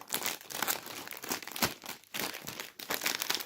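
A plastic snack bag of puffs is crinkled and rustled open close up, sharp crackling bursts coming in quick irregular bunches with brief pauses between them.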